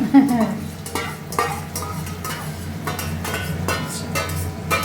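Pieces of chicken for restaurant-style dry chili chicken fry in a pan as a sauce mixture is poured in, sizzling steadily while a spatula scrapes and stirs in repeated strokes.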